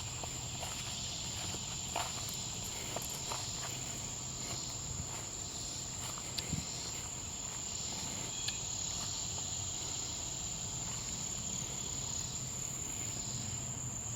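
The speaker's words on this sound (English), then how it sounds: "It sounds like a trig nearby." A trig cricket chirping nearby in a swampy summer setting, a faint, steady high-pitched trill running continuously under quiet ambient noise, with occasional soft clicks and rustles.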